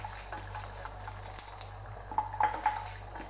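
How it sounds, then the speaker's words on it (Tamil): Mustard seeds and chana dal frying in oil in a pan, with light sizzling and sharp popping crackles growing busier toward the end, plus a faint metallic clink of a utensil. "நல்லா பொரியட்டும், ஆனால் தீஞ்சிடக்கூடாது கடலப்பருப்பு"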